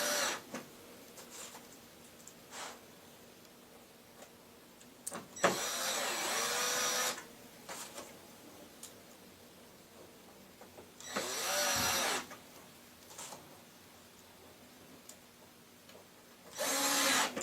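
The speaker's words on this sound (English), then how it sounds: "the holes are already pre-drilled, and you just anchor the screws down" A power screwdriver drives screws into a pre-drilled Forevermark Lazy Susan kitchen cabinet base in three separate whirring bursts, each about a second long, with quiet handling clicks between them.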